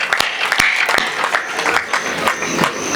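Loud crowd applause at a kavi sammelan poetry gathering in the AMNS township, dense steady clapping that fills the whole stretch, with sharp individual claps standing out.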